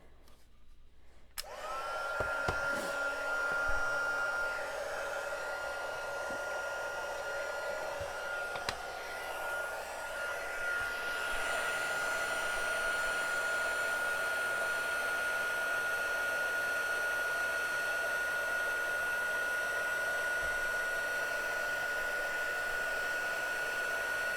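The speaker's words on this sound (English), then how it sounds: "And now I'm going to heat up my heat tool real quick and bring that in." A heat tool blows steadily while melting white embossing powder at a card-making table, a continuous loud whooshing drone with a faint whine that starts after a moment of quiet and runs unbroken to the end.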